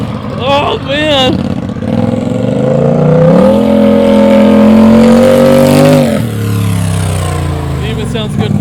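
A Polaris RZR XP Turbo with a straight-pipe exhaust idles loudly and rises into a sustained steady drone while backing up, then settles again; brief talk sits near the start and end.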